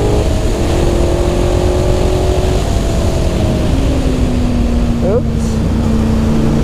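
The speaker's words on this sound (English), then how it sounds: "Then accelerate up the hill." A KTM motorcycle climbs a hill under throttle, its engine droning steadily loud beneath heavy wind rush, the pitch sliding down near the end as it shifts.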